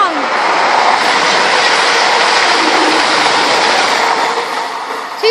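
A Class 222 Meridian diesel train heading to Nottingham passes at Attenborough, a loud steady roar and rumble of wheels on track, close and sustained throughout.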